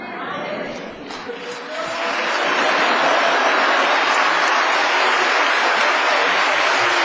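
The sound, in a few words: congregation applauding a pastor's arrival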